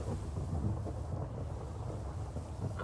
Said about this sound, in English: Oh, hey, it's raining. It's a storm.